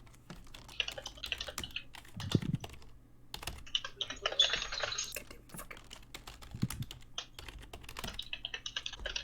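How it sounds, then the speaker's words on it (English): Rapid bursts of typing on a computer keyboard during a tabletop role-playing session, clattering in quick irregular runs with short pauses, close and fairly quiet over a low background hum. "I would save that soundbite of you just typing"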